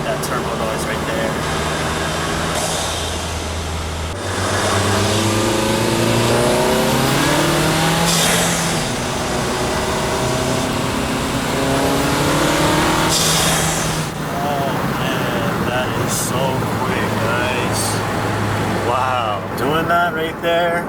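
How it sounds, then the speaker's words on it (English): A car with a broken turbo inlet accelerating through the gears in normal driving, shifting around 3,000 rpm, its engine note climbing and dropping with turbo whoosh over steady road noise, loud and continuous throughout. "You guys can get that turbo noise right there."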